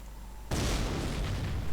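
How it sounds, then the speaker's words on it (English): A mortar shell in a real-time strategy video game explodes with a sudden loud boom that swells into a rumbling, crackling blast lasting over a second. "Of course, again, the mortar has been accurate, so it might still hit that MG."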